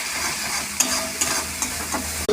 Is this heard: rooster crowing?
no